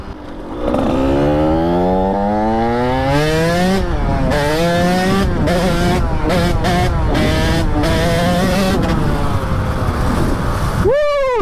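KTM 85 two-stroke dirt bike revving hard and close, engine pitch climbing through the gears in repeated rising sweeps with brief throttle lifts, ending in a sharp high rev.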